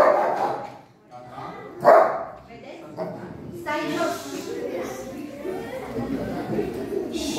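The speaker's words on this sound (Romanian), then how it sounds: "Va demonstra că este un câine agresiv," A Romanian gendarmerie police dog barks aggressively in short bursts, mixed in with someone talking over outdoor background noise.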